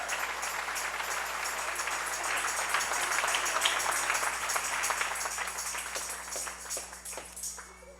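A church congregation at an evangelical service applauds in a steady, dense wash of clapping that holds for the full stretch and tapers slightly toward the end, with a low hum underneath.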